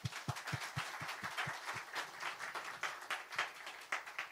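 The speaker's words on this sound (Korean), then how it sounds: "하나님 앞에 영광의 박수를 올려드리겠습니다." A church congregation applauds during a Sunday worship service, with clear rhythmic claps at first that merge into fuller, steady applause from the room.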